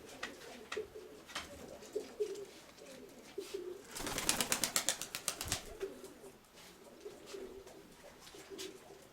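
Pigeons at a newly built, occupied pigeon loft on a rural property coo repeatedly, with a burst of wing flapping midway as birds take off or land nearby, followed by more soft cooing.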